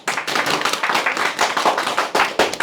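A small group of cookery students at a dolma-making class claps for themselves, a short, close burst of brisk, uneven hand claps.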